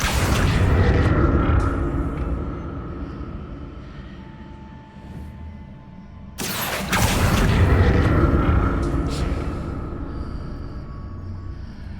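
A Confringo blasting spell explodes in Hogwarts Legacy, a sudden sharp boom midway through, preceded and followed by a loud rumbling, roaring wash of game sound effects.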